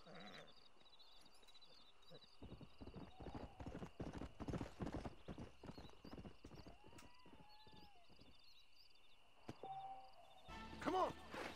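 A stallion's hooves clip-clop in a steady, fairly close walking rhythm in the Red Dead Redemption video game, with a short whinny near the end over quiet background ambience.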